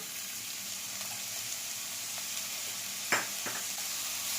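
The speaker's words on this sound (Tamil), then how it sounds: "இஞ்சியும் பூண்டும் வதங்கினதுக்கப்புறமா இதில் கேரட் சேர்த்துக்கலாம்." Carrots sautéing in a pan with softened ginger and garlic give a steady, soft sizzle throughout, with a brief clink or stir near the end.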